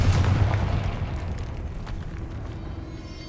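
A Confringo fire spell cast in a wizarding video game, a single deep booming blast that rumbles and slowly fades over a few seconds, loud and close.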